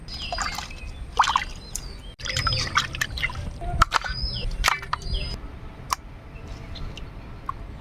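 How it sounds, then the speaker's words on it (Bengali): Cut pieces of shankar (stingray) fish being washed in hot water: close dripping, splashing and sloshing in bursts, with faint bird chirps in the background. "শঙ্কর মাছগুলা ভালো করে গরম জল দিয়ে আমি ধুয়ে নিবো"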